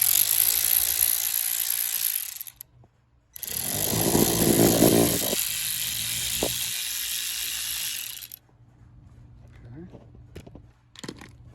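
A ratchet drives a screw on a part of an Amigo Rocky 125, a CT70 clone, during an emissions and pair system delete. It gives loud, sustained whirring and clicking in two long bursts with a short gap, then quieter scattered clicks.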